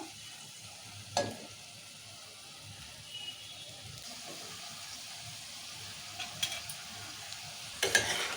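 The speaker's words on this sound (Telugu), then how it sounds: "కలుపుకుందాం బీరకాయ చేసినాం కదా కలుపుకుందాం ఒకసారి" Chopped ridge gourd with ginger-garlic paste, coriander powder and salt is stirred in a pan as curry, giving a faint steady sizzle with a few sharper scraping clatters of the spoon near the start and end.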